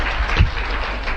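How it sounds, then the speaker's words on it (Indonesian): An audience at a business meeting gives a short burst of applause, a dense broadband patter of many hands in a room with one slightly stronger swell, steady and close. "Tepuk tangan."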